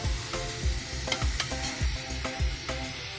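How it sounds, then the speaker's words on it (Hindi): Chopped onions sizzle steadily in ghee while a spoon scrapes and stirs the pan in a regular rhythm, close and clear with no talking. "इसको अच्छे से हम फ्राई करेंगे यहाँ तक कि प्याज हमारा अच्छे से लाइट ब्राउन हो जाए"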